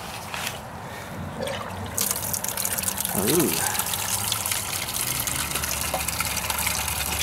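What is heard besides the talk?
water and stale gasoline draining from a tank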